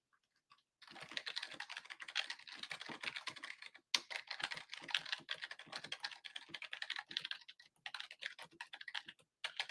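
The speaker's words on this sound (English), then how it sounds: "Sorry, just typing something out." Rapid typing on a computer keyboard, a steady patter of close, soft key clicks with brief pauses and a sharper keystroke now and then, quiet and alone without any talk.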